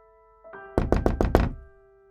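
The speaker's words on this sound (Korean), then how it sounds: "처음과는 다른 목소리의 남자가 거칠게 대문을 두드리며 소리를 쳤다" A man pounds roughly on a gate in a horror radio drama: five heavy, hollow knocks in quick succession, loud and close, with a faint background tone underneath.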